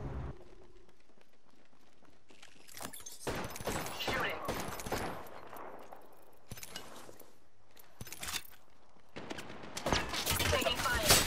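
Rapid, loud bursts of gunfire in the battle royale game Apex Legends, coming in several sustained volleys separated by brief lulls, with a voice speaking briefly in between.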